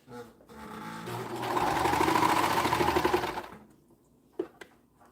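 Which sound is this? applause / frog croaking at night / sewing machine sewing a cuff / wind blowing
sewing machine sewing a cuff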